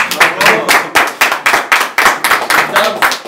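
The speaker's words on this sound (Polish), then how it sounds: "Brawa!" A small gathering at a year-end sports association event claps for an honoured referee, rhythmic, fairly close applause with steady beats and a few voices underneath.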